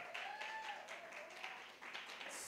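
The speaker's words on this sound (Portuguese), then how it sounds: "Vamos aplaudir a Jesus?" Applause for Jesus during a church service, a dense, steady wash of clapping from a congregation lasting throughout, with a faint voice briefly audible beneath it.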